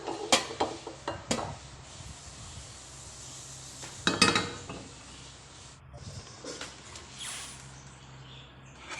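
A metal wok is lifted and handled on a kitchen stove while fish with tofu is being cooked, giving scattered clanks and scrapes and one louder bang near the middle, with quieter rattling toward the end.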